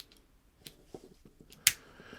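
Small scissors on a Victorinox Swiss Army Cyberchamp Lite multitool knife being opened and worked, a few soft close metallic clicks and snips followed by one sharper snap, quiet and alone.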